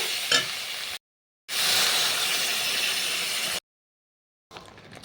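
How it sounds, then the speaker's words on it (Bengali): Water hits hot fried spice masala for a crab curry, bursting into loud, steady hissing sizzle that holds for a couple of seconds, broken by abrupt silent gaps. "জল দিয়ে দেব।"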